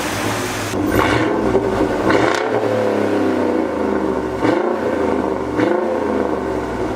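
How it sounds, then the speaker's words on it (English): A 2014 Ford SVT Raptor's V8 engine revs up repeatedly, surging and dropping in loud close bursts with a high-pitched whistling cold air intake sound on each rev. "It kind of has like this high-pitched whistling sound on the inhale where the cold air intake is"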